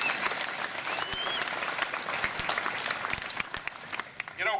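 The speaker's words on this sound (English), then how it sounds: "what about a round of applause for Damien" Outdoor applause breaks out among riders at a motorcycle protest in Melbourne, a crowd clapping steadily for several seconds with scattered voices and open-air background noise underneath.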